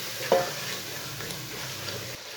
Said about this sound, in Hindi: सब चीज़ों को 5 मिनट तक भून लेंगे।